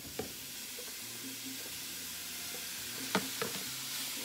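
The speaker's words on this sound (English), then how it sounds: "Hear that sizzle?" Meat for empanada filling sizzles steadily in a hot pan, a soft continuous crackling hiss with a few sharper pops and clinks of stirring.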